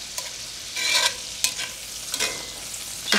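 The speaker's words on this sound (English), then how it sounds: "I'm just gonna saute the Brussels sprouts in here" Brussels sprouts and bacon sauté in a pan, a low sizzle broken by several sharp scraping bursts as tongs stir and flip them, close and without talk.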